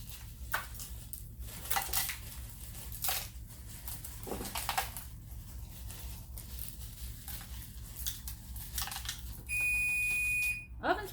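A kitchen oven gives a steady electronic beep near the end of a stretch of cooking clatter, with pans and utensils knocking in the background and a voice speaking briefly.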